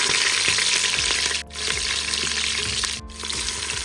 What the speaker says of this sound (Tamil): கடுகு போடலாம், காஞ்ச மிளகா போடுறோம், கடுகு கருவேப்பிலை போடுறோம்